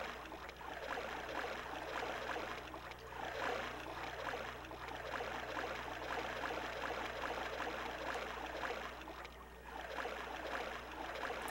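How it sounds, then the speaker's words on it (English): Steady, soothing water splashing and rushing from an Atari Jaguar video game plays continuously at moderate level, swelling and easing in gentle repeating surges. "I do think the water splashing sound is very soothing."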